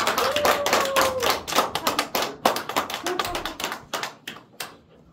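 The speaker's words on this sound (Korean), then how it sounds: "힘찬 박수와 환호 부탁드리겠습니다" Applause and cheering from a lecture audience welcoming a professor to a Korean seminar on AI and economic change, dense clapping that thins into scattered claps over about five seconds.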